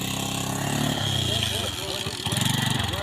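A motorcycle engine runs close by, with a low, steady putter that rises slightly toward the end. Someone talks over it.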